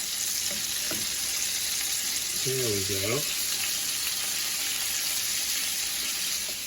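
Steady broadband sizzle of Norwegian meatballs browning in hot oil runs throughout, with a brief spoken phrase near the middle.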